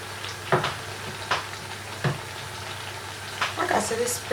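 Ripe plantain slices fry in a pan with a constant close sizzle, broken by several sharp crackles and spatters as pieces are turned, with brief talk near the end.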